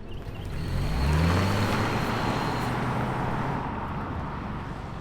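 A 2025 Toyota Camry SE hybrid sedan pulls away, its low rumble building and easing as it rolls, with broadband road noise and a faint hum holding steady throughout and no voices.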